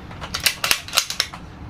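A crisp, sharp click from the two-stage trigger of a Sig Sauer Cross .308 Win bolt-action chassis rifle breaking, heard close among several quick dry clicks and mechanical snaps in a short burst.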